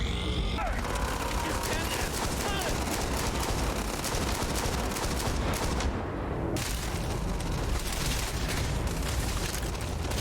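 Sustained rapid gunfire in the sci-fi shooter Starfield, dense overlapping shots and bursts loud and continuous throughout, with a brief gap near the middle before the barrage resumes.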